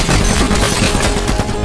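Heavy film gunfire as a man is shot in his car, a dense rapid barrage of shots filling the whole short moment, loud and continuous with no talk.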